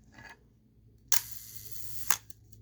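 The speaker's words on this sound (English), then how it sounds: "If I slow down the shutter speed to 1 second, you'll be able to see the mirror open and close." An Asahi Pentax Spotmatic film camera fires at a one-second shutter speed: a crisp mechanical clack as the mirror lifts, a quiet gap of about a second, then a second clack as it closes, close and alone.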